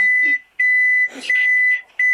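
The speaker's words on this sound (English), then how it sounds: "Your beep is so loud." A loud electronic beep sounds as a steady high tone in three long bursts with short gaps between them, and a faint voice comes through under it.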